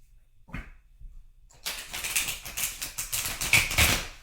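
A brief rustle, then a rapid run of papery riffling and flicking as tarot cards are shuffled close by, several quick bursts in succession.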